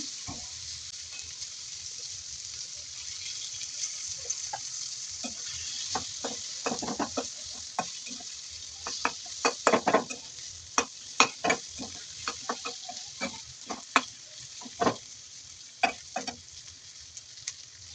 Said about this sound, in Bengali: দিয়ে এই পেঁয়াজটিকে হালকা করে আমরা ভেজে নেব